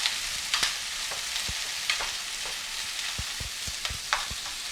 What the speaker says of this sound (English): Our veggies are in our pan here. Just gonna give them a quick stir.